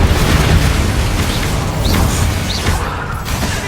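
An Incendio fire spell in Hogwarts Legacy roars as a loud, rushing burst of flame and rumble, with a few brief whooshing accents over a continuous heavy wash.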